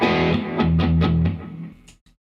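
Overdriven electric guitar played through an amp on the bridge pickup, a quick run of about five chord stabs up close, then a short decay and a couple of faint pick noises at the end.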